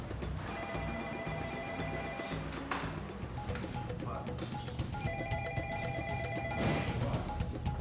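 A telephone rings in repeated electronic bursts with a short pause between them, loud and close over a busy indoor background with faint voices.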